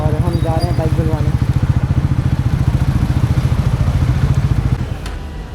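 A Bajaj Pulsar NS400 motorcycle riding, its engine thumping in a loud, steady rapid pulse up close before easing off near the end.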